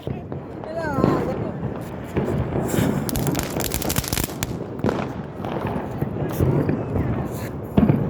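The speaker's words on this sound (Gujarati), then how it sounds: "આ ફાટા કે પણ ગાંડા થયા છે તો" Firecrackers burst during a festival in a rapid, irregular string of sharp cracks and pops, some clustered in quick volleys, with voices talking in the background.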